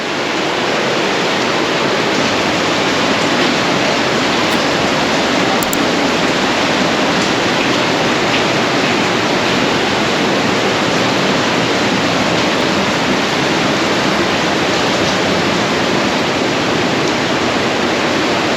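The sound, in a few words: water rushing and dripping in Partnach Gorge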